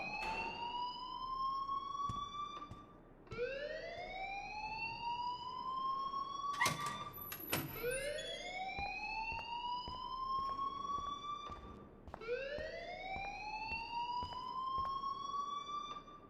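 Rising, wailing electronic alarm in the video game Life Is Strange, sweeping upward in repeated cycles about every four seconds, loud and continuous, with a brief burst of clatter in the middle.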